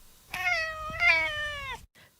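A house cat in an audio drama meows twice in a row, clear and close, each call drawn out with a slight rise, followed by a brief quiet moment.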